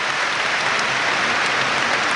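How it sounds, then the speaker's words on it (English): Stadium crowd at Villa Park applauds during an Aston Villa versus West Ham Premier League match, a dense, continuous roar of clapping that sounds like heavy rain, loud and unbroken for about two seconds. "Huge applause for marvellous Nakamba"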